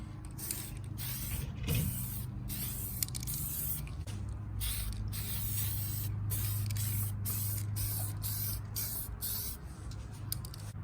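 Aerosol spray paint hisses in repeated short bursts with brief gaps as a light dusting coat goes onto a Traxxas X Maxx 8S RC car body, close and steady over a low background hum.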